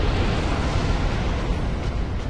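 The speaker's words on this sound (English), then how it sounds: "That explosion is really, really annoying." A massive explosion in the video game Dark Souls, a loud continuous roaring blast with deep rumble that fills the whole moment without letting up.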